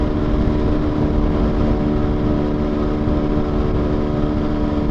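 Motorcycle riding at about 90 km/h at night, a loud steady engine drone with constant wind rush, close and unbroken throughout.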